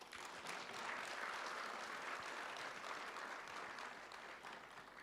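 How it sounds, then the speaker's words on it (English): A conference audience breaks into sustained applause at the opening ceremony of a security dialogue. The dense clapping keeps an even level for several seconds and then begins to taper slightly. "please give it a big round of applause,"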